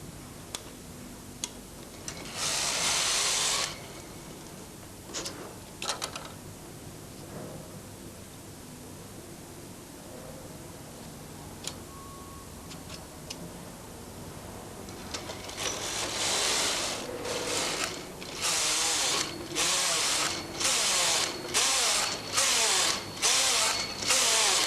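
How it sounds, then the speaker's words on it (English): A Brother knitting machine casting on in waste yarn gives bursts of rattling carriage passes and clicking needle ticks, sparse at first then in rapid repeated sweeps, close and fairly loud with no talking. "Push up the number of needles you'll need for this longer band and cast on in waste yarn."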